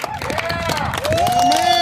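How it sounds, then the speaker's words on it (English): Rally crowd at a Michigan People's Movement gathering after a protest claps and whoops, a dense burst of applause and cheering with raised voices calling out over it. "Give him a round of applause"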